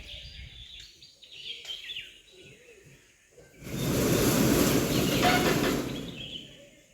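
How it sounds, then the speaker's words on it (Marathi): Steady rushing stream water gurgles and splashes close by beside a Konkan home, swelling loudly after a quieter stretch with faint bird chirps. "तुम्हाला व्हिडिओमध्ये पाण्याचा खळखळ ऐकू येतो ना तो ह्याच पाण्याचा असतो"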